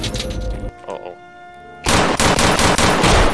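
Rapid bursts of gunfire in the Escape from Tarkov shooter game, loud and close, a short volley, a brief lull, then a sustained dense string of automatic shots.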